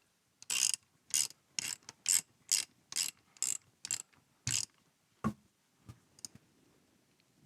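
Ratchet tightening a king pin on a David Brown 990 tractor, about a dozen sharp clicking strokes in a fairly regular rhythm, close and distinct, tapering to a few scattered clicks.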